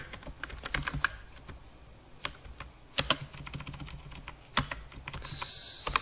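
Code being typed on a computer keyboard: scattered key clicks in irregular bursts with a few sharper strikes, close and fairly quiet, with no voices.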